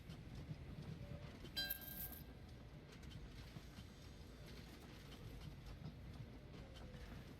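A train rolls past in the Train Valley 2 railway game, a faint, steady rumble of wheels on track with a brief bright chime partway through, with no talk over it.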